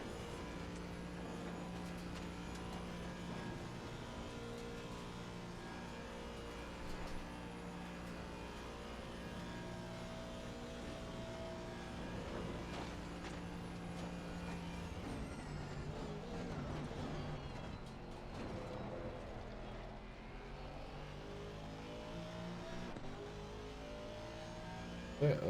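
An Aston Martin race car on the Nordschleife in Assetto Corsa Competizione, its engine droning loud and steady at high revs through a long flat-out stretch, briefly shifting pitch midway, with no talk over it.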